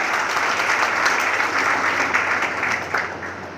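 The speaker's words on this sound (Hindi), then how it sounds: "एक बार जोरदार तालियां हो जाए।" Loud, sustained applause from an audience at a school function honoring a chief guest, a steady dense wash of clapping lasting several seconds with no voices over it.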